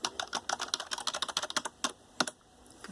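Typing on a Logitech K480 Bluetooth keyboard, a close, brisk run of plasticky key clicks in an uneven rhythm that slows to a few scattered taps, with no voices.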